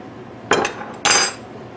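A plastic Tatler canning lid bumped twice on a kitchen counter, two short, sharp knocks about half a second apart, close and clear against a quiet room.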